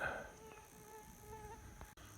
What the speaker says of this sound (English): There's a mosquito on my phone.